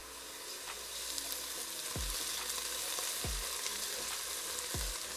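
Garlic, about half a large head, sizzles steadily as it fries in a soup pot, with a few low knocks of stirring breaking through the constant crackle.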